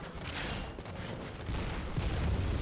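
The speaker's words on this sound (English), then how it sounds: "Someone just shoot a cannon at me?" Cannon firing in the Bloodborne video game, a loud booming blast with mechanical rumble that swells toward the end of a short burst, heard alone without talk.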